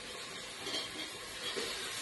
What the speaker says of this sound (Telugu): తర్వాత మనం క్యాప్సికమ్ వేసుకోవాలి